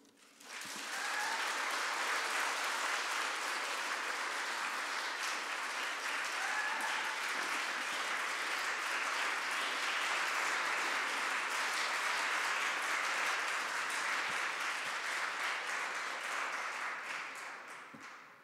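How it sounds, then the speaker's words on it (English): Audience at a conference clapping after a talk, a long sustained round of applause from a large crowd that rises quickly, holds dense and even for about seventeen seconds, then tapers off. "Well-deserved long clap there."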